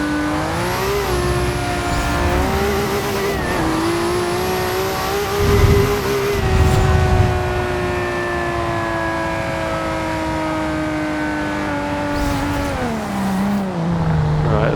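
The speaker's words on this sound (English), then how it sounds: "it just like lets rip as soon as that turbo spools up" A turbocharged 1000hp Toyota Supra in the Forza Horizon 2 racing game revs loud and close, its engine note climbing and dipping in a steady, continuous roar for the whole stretch.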